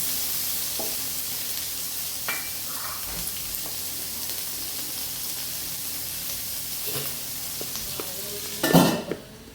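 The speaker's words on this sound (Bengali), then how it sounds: "সর্ষেতে পেঁয়াজটা একটু হালকা করে ভাজলেই ভালো লাগে।" Onion frying lightly in mustard oil, a steady soft sizzle running throughout with occasional utensil clinks and a louder scrape of stirring near the end.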